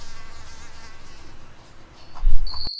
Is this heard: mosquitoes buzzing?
yes